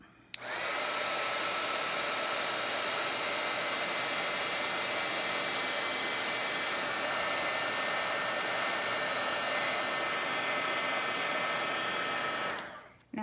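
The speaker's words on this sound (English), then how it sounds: "I'm going to use my embossing gun and we'll heat this." An embossing heat gun blows hot air in a steady, loud broadband roar at close range, switching on abruptly and running evenly for about twelve seconds before cutting off, with no talking over it.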